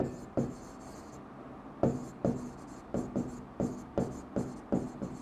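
Pen writing by hand on paper during an accounting lesson, a quiet series of about nine short scratchy strokes in an uneven rhythm, close to the microphone and alone, with no voices.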